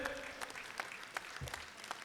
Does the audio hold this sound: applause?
yes